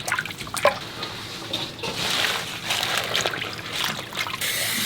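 Trimmed gochubbaegi greens being soaked in vinegar water make close watery sloshing, dripping and trickling sounds in uneven bursts, with no talking.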